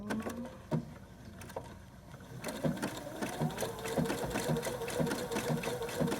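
A sewing machine stitches a Dresden Plate quilt: a few isolated needle thumps at first, then a steady, fast mechanical chatter of stitching that continues to the end at moderate volume.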